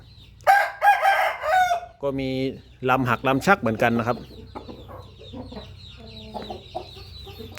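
A young Burmese gamecock crows loudly close by and then clucks more softly, while someone talks over and between the calls.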